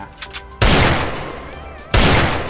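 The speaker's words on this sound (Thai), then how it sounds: "ให้เราทำการยิงแบบนี้นะตัวเจนะครับ" Two loud Desert Eagle pistol shots fired in the mobile game Free Fire, each a sharp blast with a long ringing tail, about a second and a half apart, preceded by faint clicks.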